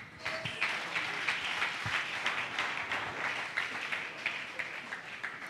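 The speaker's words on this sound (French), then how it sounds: "Je pense que les acclamations ne sont pas suffisantes." An audience at a general assembly of Christian congregations in Kinshasa applauds steadily, a dense wash of many hands clapping at moderate distance, sustained evenly for several seconds without speech.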